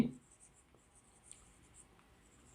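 Faint, sparse scratching from writing on a board during a sixth-grade math lesson. The light strokes sit in a quiet room with no voice heard.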